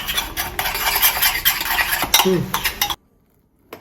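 Tarragon egg-yolk French sauce stirred in a pan, close rhythmic scraping and whisking with faint sizzle for about three seconds, then silence.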